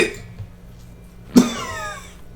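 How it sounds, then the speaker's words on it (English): A painful cough after fits of insane laughter: one sharp, close cough with a ringing tail that follows a brief quieter sound. "Her insane laughter turned into a painful cough."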